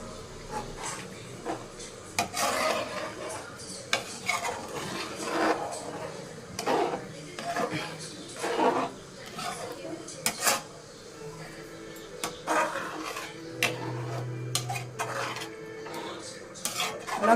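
A pot of ginger curry is stirred in a cooking pan, with repeated close scraping and clinking of a spoon against the metal in an irregular rhythm, and faint talk underneath.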